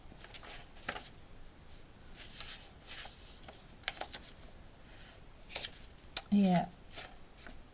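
Scissors cut paper for a handmade envelope mini album, a series of short close snips and crisp rustles scattered over several seconds, with a brief voice near the end.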